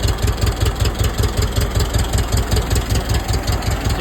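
An old $300 tractor engine idles steadily on its own, its low, even chugging pulsing at a regular rhythm, loud and close with no talk.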